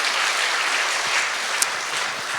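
Congregation applauding during a Sunday morning church worship service, a dense, steady wash of clapping that holds for the whole stretch at a fairly loud level, with one sharp brighter clap standing out near the end.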